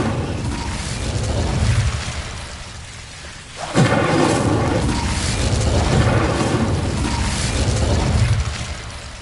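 An Incendio fire spell in Hogwarts Legacy: a sudden blast bursts out midway, followed by a roaring, crackling rush of flame that sustains loudly over continuous rumbling ambient noise.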